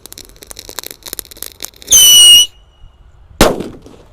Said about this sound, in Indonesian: ini ada mercon extra XL galaxy ya, yang dibuntel dengan kertas. Kita nyalakan di dalam lubang tanah.